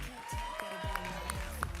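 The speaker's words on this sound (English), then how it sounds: "Keep clapping, y'all." Audience applause during a graduation-style name reading at Marco Island, steady crowd clapping filling the short span with a few faint voices mixed in.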